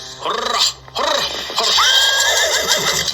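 A horse whinnies in a narrated story scene with a horse cart, a rising, quavering neigh that breaks off and then returns louder and longer, close and prominent.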